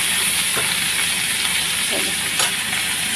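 Okra cooked with mustard fries in a pan, giving a steady, close sizzle and hiss with a few light scrapes of stirring.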